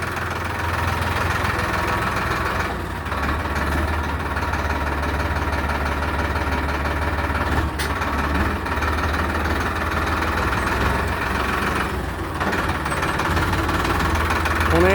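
A Farmtrac 60 tractor's diesel engine runs steadily in fourth low gear, a loud close low rumble with constant vibration and faint knocking, a voice talking briefly over it.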